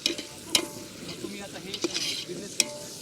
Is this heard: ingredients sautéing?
yes